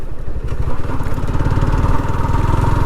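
A Yamaha R15 V4 sport motorcycle engine runs loud and close, holding a steady throbbing drone with quick rhythmic pulses as it revs; a quick shifter is in use, and no one speaks.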